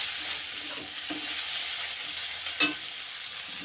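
Latha fish cooking with green chillies and coriander in a hot pan, a continuous close sizzle with a few stirring scrapes and one sharp clack near the end.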